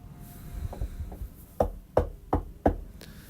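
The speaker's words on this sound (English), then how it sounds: "He knocked on the door." Four sharp knocks on a door, evenly spaced and fairly close, following a few softer taps, with a faint background hum and no voices.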